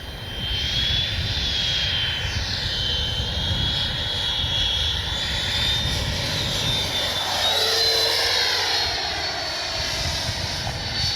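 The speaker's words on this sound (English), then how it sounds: "Pick a low pass with the gear down." A Freewing F-22 90mm RC jet makes a low pass with its gear down, its loud steady ducted-fan whine rising and shifting in pitch as it passes close by, continuous throughout.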